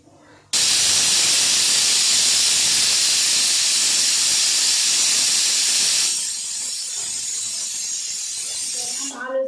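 A pressure cooker cooking potato curry on a kitchen stove lets off a loud, steady steam hiss that starts abruptly and runs for several seconds, softening slightly near the end.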